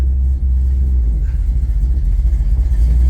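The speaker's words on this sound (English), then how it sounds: "Don't mind the exhaust. It's hitting the cross member right now." A 1969 Plymouth Road Runner drives with its exhaust hitting the cross member, giving a deep, loud, close rumble with a pulsing, uneven throb and a brief dip early on.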